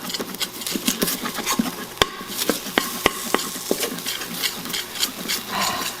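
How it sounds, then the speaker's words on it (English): A spoon scrapes garlic and ginger off the bottom of a pot while making pho: close, repeated scraping and stirring with sharp wooden knocks at irregular intervals. "you want to take your spoon and just scrape it up"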